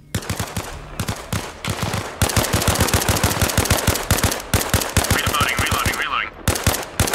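Machine gun fire in Arma Reforger, rapid sustained bursts of loud close automatic shots in a steady rhythm with short gaps, plus a faint voice briefly underneath.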